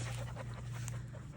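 Pet dogs in a garden pant steadily in quick rhythmic breaths, close by and fairly quiet, with no talking during the short stretch.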